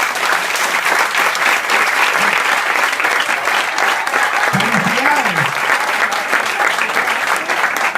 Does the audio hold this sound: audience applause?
yes